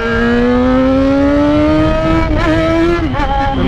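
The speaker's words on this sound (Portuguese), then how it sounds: "Aí, Mike, você ainda sabe empinar essa bosta dessa moto?" A close Yamaha XJ6 motorcycle engine revs high and steady during a wheelie, pitch climbing gradually, then stutters and wavers as the throttle is blipped.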